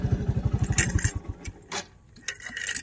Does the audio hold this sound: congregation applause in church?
no